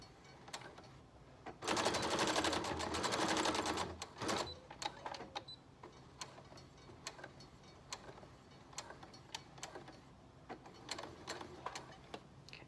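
A sewing machine stitches a pleated fabric mask, a dense burst of rapid mechanical chatter for a couple of seconds, then scattered short ticks and clicks as the fabric is worked back and forth.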